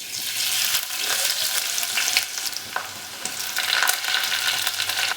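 Ginger, garlic and green chili fry in hot coconut oil, giving a steady, close crackling sizzle with soft stirring scrapes throughout and no voices.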